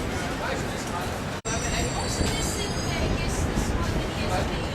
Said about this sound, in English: There's your 7 train.